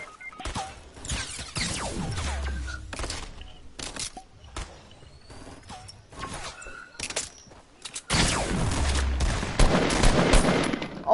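Video game gunfire cracks in sharp, scattered shots and short bursts, some near and loud, others fainter, with a heavy flurry of shots near the end.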